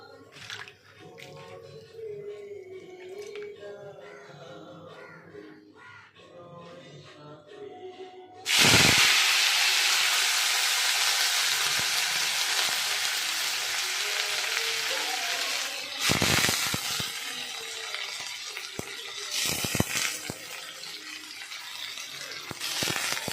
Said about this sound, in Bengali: এখানে তখন উচ্ছেটা ভাজা হোক